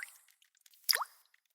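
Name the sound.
water dripping from a leaky shower head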